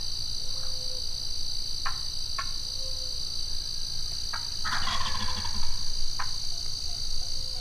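Osceola wild turkey hens clucking and yelping at a distance, with several short scattered calls over a steady high insect drone and low background rumble.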